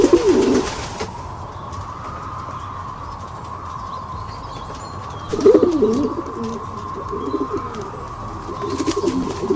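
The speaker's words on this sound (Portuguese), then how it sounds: "Aquela pomba, qual que é o barulho que a pomba faz mesmo" A pigeon or dove coos close by in two low, throaty phrases, one at the start and another halfway through, over a faint steady hum.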